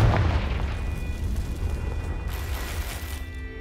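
A Confringo blasting spell goes off in the Hogwarts Legacy game as a loud, sustained low rumbling boom with game music or ambience layered over it.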